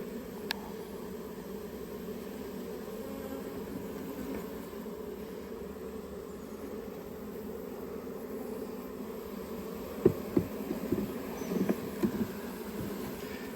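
Lost honey bees buzz in a soft, steady drone nearby, with a few louder passes as individual bees fly close to the microphone.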